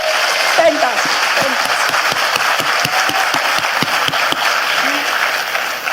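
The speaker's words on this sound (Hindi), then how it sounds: "तो एक बार जोरदार तालियां अपने लिए बजा लो।" Audience in a hall at a business training session applauds loudly and steadily, dense clapping with a few sharper claps standing out, while a voice speaks briefly over it near the start and end.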